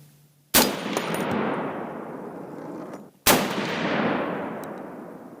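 A Noreen BN36 .300 Win Mag long-range rifle fires two loud, close booming shots a few seconds apart, each a sharp crack followed by a long rolling outdoor echo.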